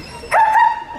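Children in a choir at a concert in Dąbki imitate a dog barking with their voices: one loud, drawn-out yelping bark-like cry, near and clear, with no other talk.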